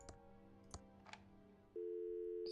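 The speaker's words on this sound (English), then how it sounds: "Now I'm gonna use the phone." Telephone sounds in the video game Thimbleweed Park: a few faint clicks and short dialing-like blips, then a loud, steady electronic phone tone starts and holds to the end.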